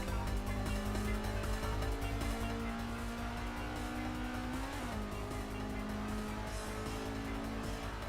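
A car engine in the Assetto Corsa racing game revs steadily and loudly through a short gear ratio, its pitch holding, then briefly climbing and dipping near the middle before settling again, continuous for the whole stretch.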